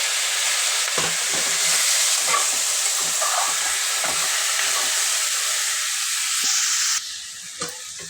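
Tomatoes fry in a pan with onions and cashews for tomato rice, a loud continuous close sizzle with occasional stirring knocks, easing slightly quieter toward the end.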